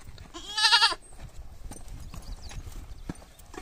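Horse hooves beat on the ground in a rural goat-catching setting, with a loud burst of animal sound near the start, then steady clopping and rustling at moderate distance.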